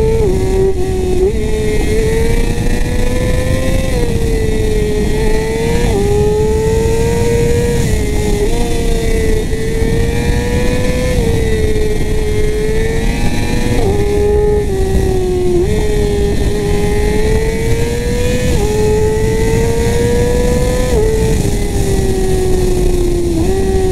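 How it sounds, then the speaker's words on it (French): A Yamaha R6 motorcycle engine held around 7000 rpm in second gear, a loud, continuous high-pitched whine with slight rises and dips in pitch as the throttle varies, recorded close with no talking. "À 7000 tours avec le R6 en deuxième."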